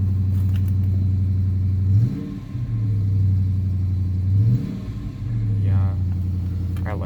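A Dodge Charger Daytona's engine is revved close by. A steady low idle twice sweeps up into short revs and drops back. A voice is heard briefly near the end.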